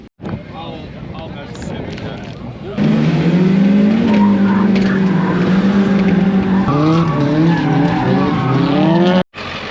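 A stock 1.8 naturally aspirated Miata and a KA24DET S13 roar loudly while tires squeal in long, wavering screeches as a car drifts at a drift event; a voice is heard at times over the din.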